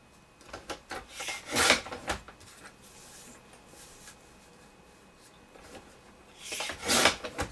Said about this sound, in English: I'm trimming off all the white edges.